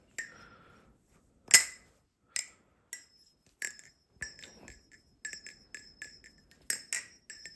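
A TheOne Chab balisong butterfly knife is flipped, giving a series of sharp metallic clicks and clinks in an uneven rhythm, close and fairly crisp, with no talking.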